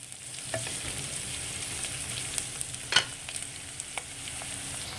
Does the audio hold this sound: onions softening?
yes